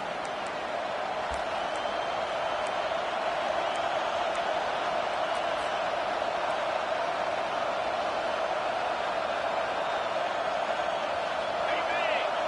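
Steady, dense roar of a home crowd in a college football video game, filling the space evenly throughout without clear peaks or cheers breaking out.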